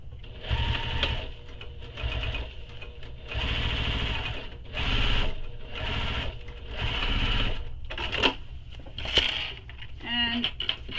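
Sewing machine top stitching a tote bag seam, running in several loud bursts separated by short pauses, ending with a quick rapid rattle of stitches.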